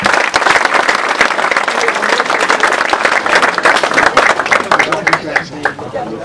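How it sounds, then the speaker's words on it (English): Crowd clapping at a pinball tournament award ceremony in Gouda, loud and choppy with distinct individual claps and some voices mixed in, thinning toward the end. "Last applause for the ladies."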